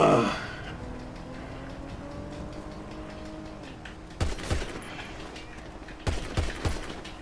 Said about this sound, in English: Got one shooting at me!